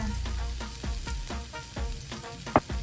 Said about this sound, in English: then we put in a tablespoon of cumin and a tablespoon of coriander.